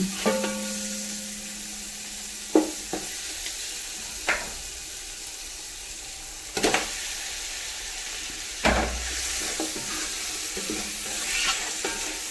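Chicken pieces coated in homemade garam masala powder frying in a pan, a steady close sizzle punctuated by several sharp scraping stirs and clinks of a utensil against the pan, with no talking.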